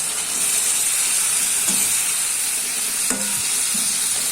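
Tangra fish being stirred through spicy masala in a hot pan, a steady sizzle and frying hiss with a few scraping strokes of the spoon, close and alone with no voices.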